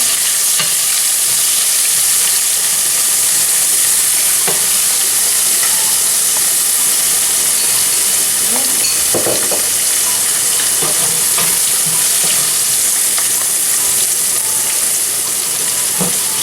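Food sizzles loudly in a hot frying pan with a constant crackling hiss, punctuated by scraping as it is stirred.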